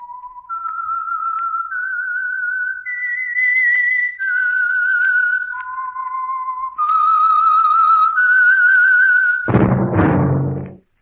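A clear, steady whistled melody moves up and down in sustained notes, ending with a sudden low thump.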